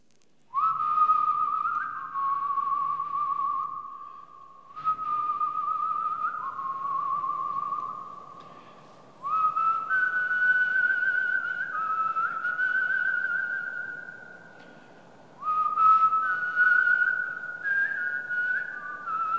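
Melodic whistling runs through the whole clip in several long phrases separated by short pauses, clear and fairly loud with no voices.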